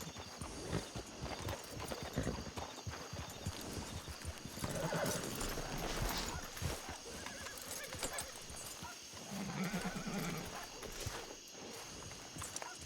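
Horse sounds in the video game Red Dead Redemption 2: hooves clip-clop under a steady hum, with a brief whinny partway through, moderately quiet amid faint background noise.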